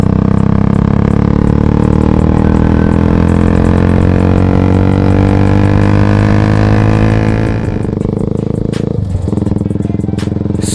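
A motorcycle engine runs loud and close in a steady droning rumble, then its pitch drops and settles partway through; no one speaks.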